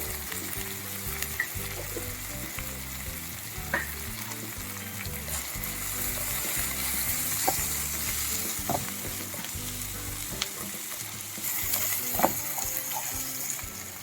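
Potato, carrot and cashews for vegetable semiya upma fry and get stirred in a pan, making a steady, loud sizzle that runs throughout with occasional scrapes and clinks of the spoon, no voices.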